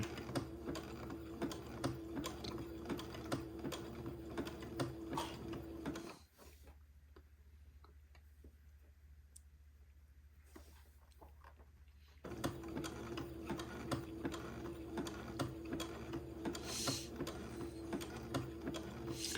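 A sewing machine zigzag-stitches lace onto entredeux for a baby layette, running at a slow, steady pace with a rapid rhythmic needle patter, pausing for several seconds midway before resuming.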